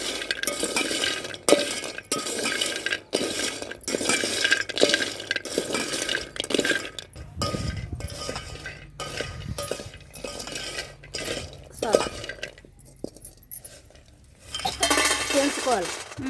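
Soya chunk and tomato curry being stirred by hand in a metal pot, a steady series of clinks and scrapes of utensil against the pan with a wet, sloppy stirring texture, close and fairly loud.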